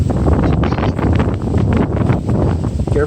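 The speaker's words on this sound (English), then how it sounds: "Why is it so windy outside?" Strong wind buffets the microphone outdoors, a loud continuous rumbling roar that surges and eases without a break.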